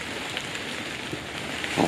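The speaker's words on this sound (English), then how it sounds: "I'm going to leave that while it's raining." Steady rain falls in a dense, hissing patter on a Citroen Berlingo micro camper nearby, constant throughout with a slight swell at the end.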